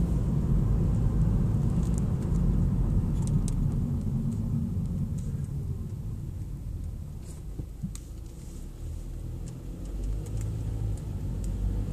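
Car overtaking a cyclist on a cold mountain road, a steady engine and tire rumble swelling near then easing, mixed with wind noise and a few faint clicks.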